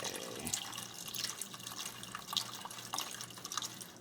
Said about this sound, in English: And now we're going to add our water, 2½ cups.